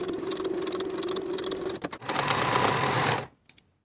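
A sewing machine runs steadily stitching a sleeve seam on a vintage 1960s step-in dress, loud and close, pausing briefly, then a faster burst before stopping with a couple of small clicks.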